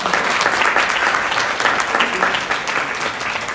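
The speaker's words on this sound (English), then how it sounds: "indulge me in clapping one more time" An audience at the UMMC FM Class of 2022 graduation ceremony claps loudly and continuously throughout, a dense, even wash of many hands with no voices rising above it.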